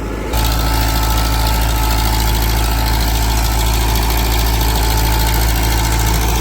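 A Massey tractor engine runs steadily and loudly while driving a rotavator without load, a constant low drone with heavy vibration that starts abruptly and holds throughout.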